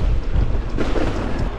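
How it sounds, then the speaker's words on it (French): Wind buffeting a microphone while cycling along the Seine riverbank in winter rain, a steady, loud low rumble with gusty swells throughout. "Oh, le vent."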